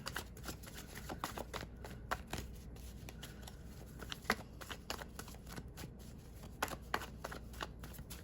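Tarot cards shuffled by hand in a steady stream of crisp riffling and soft slaps, close up, with a few sharper flicks and no talking.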